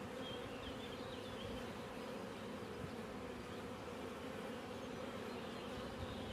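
A dense, steady buzzing of many honeybees fills the whole stretch, close and continuous, with no voices.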